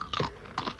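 Two quick, crisp crunches of someone biting into a square potato crisp from Smith's, each a short dry crackle close to the ear, separated by a brief pause.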